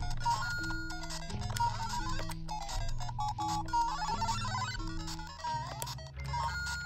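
Chiptune Super Mario Brothers music plays fast and bright from a knockoff Game Boy-style handheld, with bouncy bass notes and beeping lead melody running continuously, fairly faint, no voices.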